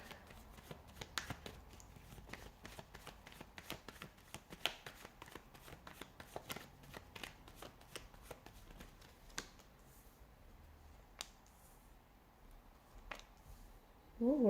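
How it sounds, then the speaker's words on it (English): Tarot cards shuffled by hand in a long run of quick, crisp riffling flicks, close and fairly quiet, continuing steadily for most of the stretch before thinning out into a few scattered snaps. "give the cards a shuffle"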